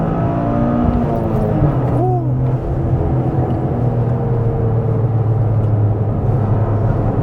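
A Toyota GR Corolla on a hill climb growls and revs loudly and continuously close by, its engine pitch rising and falling through the gears.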